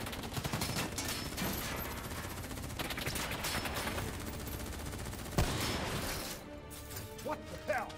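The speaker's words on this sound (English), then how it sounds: "What the hell? Who's shooting?" Sustained rapid automatic gunfire and shots pour out in Call of Duty Black Ops 3, a dense loud fusillade that fades near the end, with voices in the mix.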